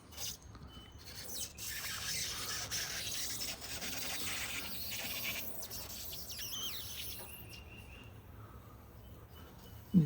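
Cerakote ceramic trim coat being applied to Hummer trim, a soft, faint rubbing and wiping that carries on steadily, closing with a small knock.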